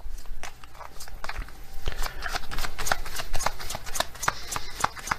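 Oracle cards are shuffled close by, a continuous papery riffling with quick flicks and soft slaps, and no voice.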